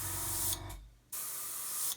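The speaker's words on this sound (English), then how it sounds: "if you paint and then just let go of the airbrush, the next time you spray, see, it won't do it" Airbrush spraying paint for a model build, a loud steady hiss in two bursts separated by a short pause, close to the microphone with no speech.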